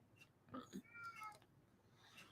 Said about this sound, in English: one of my cats is having a meow fit over there.